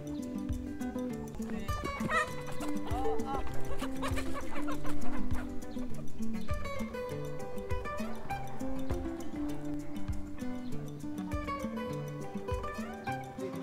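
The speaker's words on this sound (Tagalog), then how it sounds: "May nakalabas na manok. Habulin natin yan." Free-range chickens cluck and chatter continuously on a small farm, with many overlapping calls at close to moderate distance and no talking.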